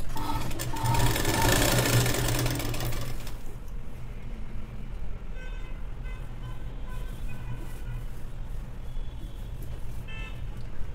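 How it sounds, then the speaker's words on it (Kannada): A sewing machine runs fast, stitching the lining and main fabric of a child's long gown, its close, loud whirring burst lasting about three seconds before it stops, leaving quieter handling noises and faint clicks. "ನಾನು ಅಷ್ಟಕ್ಕೆ ನೀಟಾಗಿ ಸ್ಟಿಚ್ಚನ್ನು ಹಾಕ್ಬಿಡ್ತೀನಿ"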